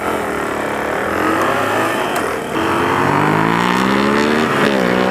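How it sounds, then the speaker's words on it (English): A motorcycle exhaust revs hard and close, engine pitch climbing and dipping through several throttle pulls, loud and sustained. "Oh, there's that exhaust."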